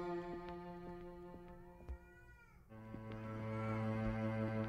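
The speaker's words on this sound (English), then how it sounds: "There's another cat." Cat meowing in the horror game Erie, long drawn-out plaintive mews over a droning ambient tone, fairly quiet and isolated.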